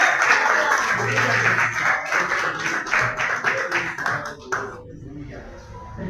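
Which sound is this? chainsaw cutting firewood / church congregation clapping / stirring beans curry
church congregation clapping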